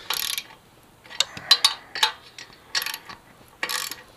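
Exhaust flange bolts on a Yamaha FZ6R motorcycle are tightened with quick bursts of sharp ratcheting clicks, close up, separated by short pauses.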